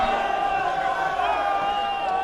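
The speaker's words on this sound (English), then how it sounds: "Much to the delight of the partisan crowd." Partisan crowd at an All England lawn bowls semi-final or final cheering and whooping at a moderate level, a steady mass of voices that lasts the whole moment.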